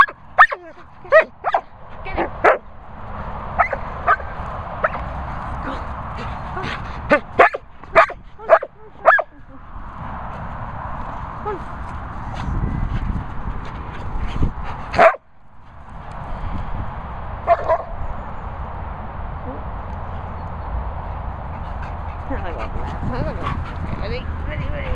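A Cavachon and a Labradoodle bark in repeated sharp bursts, mixed with yips and whimpers, over a background hum, with a person's voice among them.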